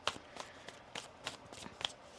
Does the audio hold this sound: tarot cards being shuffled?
yes